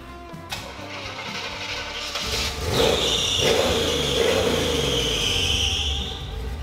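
A Chevrolet Squarebody pickup truck engine, not run in six years, cranks briefly, catches and roars to life, then settles into a loud, steady rumbling idle close by.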